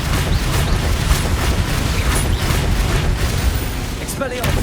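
Confringo explosive spell cast in Hogwarts Legacy, loud continuous booming blasts and bursts filling the whole stretch with dense rumbling, short crackles and a shouted voice over the top.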